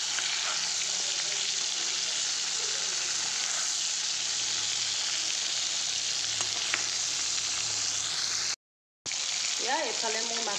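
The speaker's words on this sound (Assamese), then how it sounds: "ইয়াতে এতিয়া মাছ কেইপিচ দি লৈছোঁ আৰু মাছখিনি ভাজি লওঁ ধুনীয়াকৈ" Pieces of fish fry in hot oil in a wok, giving a steady, close sizzle that runs nearly without break. A short gap falls near the end, and the frying resumes with faint stirring.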